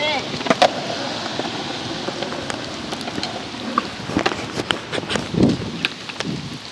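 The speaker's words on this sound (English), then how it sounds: "Damn, it's raining real bad." Heavy outdoor rain hisses steadily as a broadband wash, with scattered sharp knocks and clatters from skateboarding and voices talking briefly over it.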